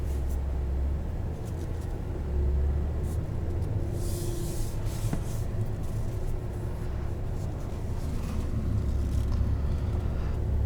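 A 2021 Nissan Titan Pro-4X pickup truck drives in tow haul mode, heard from inside the cab as a steady, fairly loud engine and road rumble with no talk.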